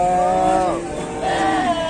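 Goats at a livestock market give two drawn-out, wavering bleats, close and loud, one after the other, over a busy background hum.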